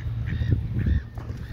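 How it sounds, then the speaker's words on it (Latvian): Ducks in a park pond give short nasal honks and quacks, several calls in quick succession, close by over low background rumble. "O, pīle."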